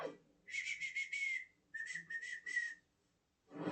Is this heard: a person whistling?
yes